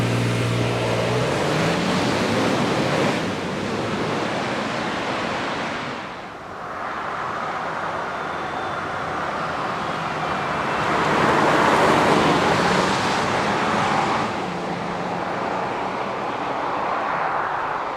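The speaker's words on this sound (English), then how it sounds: "Let's go for a drive." A Nissan Armada PRO-4X SUV drives along the road, heard from inside as a steady broadband rush of road and wind noise that swells and eases, with no talking.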